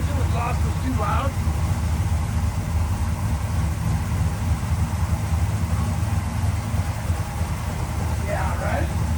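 A car engine idles with a slightly lumpy idle through a replacement exhaust, a steady, close, low rumble throughout with faint voices briefly audible over it.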